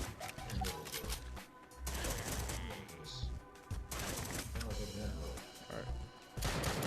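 Gunfire in the zombie shooter game Drop Dead: Dual Strike, rapid bursts of loud shots over dense game sound and music, with pauses between volleys and no voices.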